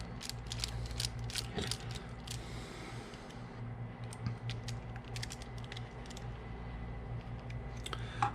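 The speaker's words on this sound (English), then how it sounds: "It's going to help me if I get the right size wrench." Ratchet wrench tightening the motor on a Cross RC Demon crawler during a transmission upgrade, a run of quick clicking bursts over a steady low hum, close and fairly quiet, with no talking.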